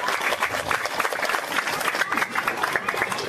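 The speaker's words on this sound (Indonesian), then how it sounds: "Tepuk tangan buat anak-anak kita" An audience at an Isra Mi'raj religious talk claps for the children, a dense patter of many hands at moderate distance that rolls on evenly for the whole stretch, with no voice over it.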